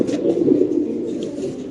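White Spanish, Damascene and Lahori pigeons cooing together, a low continuous murmuring coo heard at close range.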